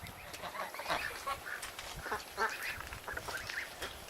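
Ducks in a homestead pen quacking continuously, several birds calling over one another at moderate distance with no talk.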